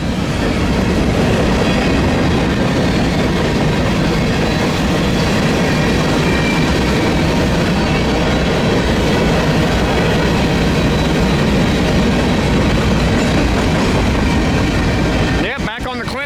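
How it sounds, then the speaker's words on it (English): A westbound BNSF grain freight train rumbles past close by, a loud steady roar of rolling wagons and wheel clatter that holds for the whole stretch before cutting off abruptly. "looks like we got a westbound grain train"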